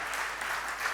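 A church congregation applauding in praise during a French-language sermon, a brief, dense patter of clapping from many hands at moderate loudness.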